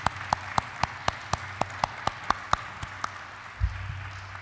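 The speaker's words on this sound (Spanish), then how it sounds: "Así que quiero un gran aplauso para el equipo de la Secretaría" Sparse, evenly spaced hand claps sound faintly in a large hall at an Inter-American Democratic Charter event, crisp single claps in a steady rhythm over a low hum, fading toward the end with a soft thump.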